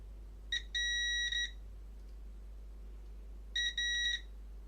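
A continuity tester testing soldered pins on a 10-pin connector gives two short bursts of sharp, high electronic beeps, each a stuttered double tone, separated by a few seconds of quiet hum.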